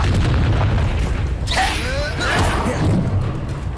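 A Confringo blasting spell goes off in a Harry Potter video game, a loud booming explosion with a rushing whoosh over a dense, continuous rumble of game sound.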